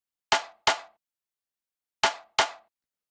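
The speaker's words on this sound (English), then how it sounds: "So the last thing I have here is the main snare" Main snare drum sample for a future garage track, struck four times in two quick pairs with a gap between, each hit crisp and punchy with a short ringing tail, isolated and clean.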